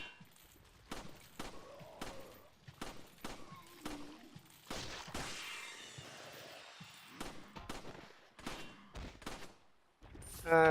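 Gunfire in the Resident Evil 4 video game, a series of sharp, separate shots spread through the clip and mixed with thuds and other game sounds at a moderate level.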